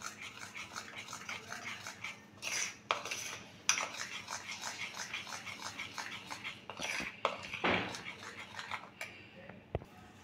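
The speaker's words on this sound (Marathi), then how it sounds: "पातेल्यामध्ये मी थोडं ताक घालते आहे आणि व्यवस्थित मी गुठळ्या मोडून घेते आहे" Buttermilk being stirred in a pot to break up lumps, with repeated close scraping and clinking of a utensil against the metal in an uneven rhythm, plus a few louder knocks.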